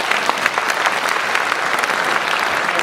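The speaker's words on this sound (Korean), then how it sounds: "큰 박수로 지사님을 모시겠습니다." Audience applause at a Korean event on anti-Japanese independence-movement music, welcoming an elderly independence patriot to give a reading. A dense, steady wash of clapping from many hands continues at an even loudness throughout.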